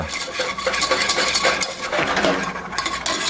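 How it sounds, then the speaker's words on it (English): A whisk scrapes and clinks against a pan as flour is stirred into melted butter for a roux, with quick, irregular metallic taps and rustling strokes, close and fairly loud, no talking. "I'm going to go in with about the same amount of flour, a couple tablespoons, and we're going to whisk this around."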